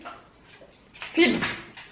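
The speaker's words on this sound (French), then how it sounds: "Excusez-moi, ma chienne fait des bêtises pendant que je fais des vidéos." A female dog misbehaving indoors gives a few short whimpers and yips, close and brief, mixed in with someone speaking French over them.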